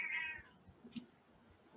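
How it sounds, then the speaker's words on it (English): A cat gives a single short meow near the start, moderately loud against a quiet room, then faint background noise follows. "Whose cat's that?"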